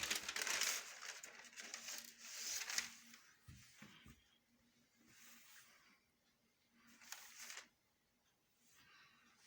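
Pattern paper for a padded mermaid skirt is pulled out and crinkled, giving bursts of rustling and crackling at moderate loudness, with quieter handling noises and pauses between the louder bursts.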